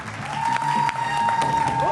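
A studio audience claps steadily and loudly on a TV show set, the applause sustained throughout with a faint crowd murmur and a tonal hum beneath.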